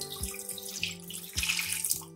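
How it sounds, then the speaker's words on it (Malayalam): Water pours into a cooking pot as two cups are added while making a hotel-style sambar without dal, a steady close splashing trickle with a few small sloshes, heard alone for a couple of seconds. "ഞാനിവിടെ 2 കപ്പ് വെള്ളം ചേർക്കുന്നുണ്ട്"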